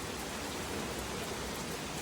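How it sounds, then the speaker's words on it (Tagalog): Heavy rain falls outdoors in a steady, dense hiss that stays unbroken for the whole stretch, with no voices over it. "Ang lakas ng ulan."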